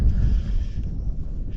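Steady low rumble of wind buffeting a microphone out on open water while tarpon fishing, loud and continuous for the whole moment with no voices.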